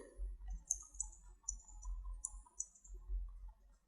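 Several sharp, faint computer mouse clicks while modeling in Maya, arriving in irregular small clusters, including quick doubled presses, over a quiet low hum.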